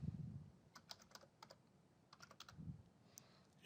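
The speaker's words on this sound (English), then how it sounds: "I could just type in Hood" Quiet bursts of typing on a computer keyboard, a few quick clusters of light key clicks separated by short pauses, recorded faintly at close range.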